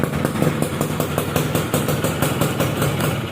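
A Suzuki F1ZR motorcycle with a modified, ported engine idling up close, a steady loud rapid two-stroke putter with an even clattering pulse throughout.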